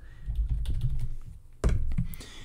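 Keys clatter on a computer keyboard as text is entered in Inkscape, a quick close run of soft taps followed by a sharper burst of louder keystrokes after a short pause.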